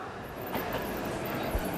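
A train pulls in within the game 13 Sentinels: Aegis Rim, a close, steady rumble of carriages with a few brief clanks and rattles over the running noise.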